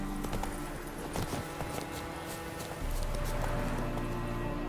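Hooves of Roach, Geralt's horse in The Witcher 3: Wild Hunt, clip-clopping in a steady, quick rhythm over continuous in-game ambience, fairly close and with no talk.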